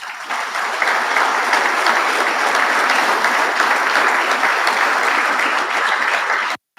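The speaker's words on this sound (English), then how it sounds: "A round of applause for all of them, please." Loud, sustained audience applause fills the hall at a Marine Corps ammunition technician awards dinner, many hands clapping evenly for several seconds before it cuts off abruptly.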